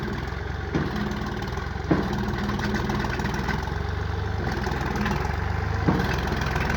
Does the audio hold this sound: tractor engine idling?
yes